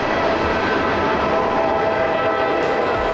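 A train passes in rural Indiana with a loud, steady rumble that fills the whole stretch, close and continuous, with a faint horn-like tone in the mix.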